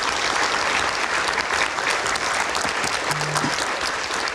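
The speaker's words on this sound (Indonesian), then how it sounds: "kita berikan tepuk tangan" Audience applause at an Indonesian political talk show studio during a 2024 election special: dense, steady clapping at full volume that fills the whole stretch without pause.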